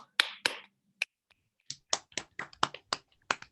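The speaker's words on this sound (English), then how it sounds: "Let's give him some snaps and some claps." Scattered finger snaps and claps from participants in an online class, a few sharp isolated snaps followed by a quick irregular run of about a dozen crisp close hits, with near silence between them.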